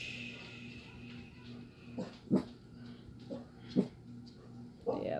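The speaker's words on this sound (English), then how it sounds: "Oh, dogs are going off." Several dogs bark and yip in short, separate bursts at a moderate distance indoors, over a steady background hum, with no talk over the barks.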